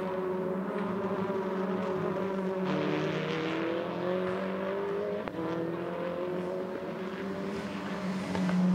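TCR touring race cars brake and turn into the Nord curve at Hockenheimring, engines droning and shifting pitch as several cars pass at a distance, a continuous steady roar with no talk.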